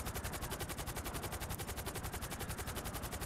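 Rapid automatic gunfire in Grand Theft Auto V, a fast, even stream of shots repeating without pause for the whole stretch, heard alone.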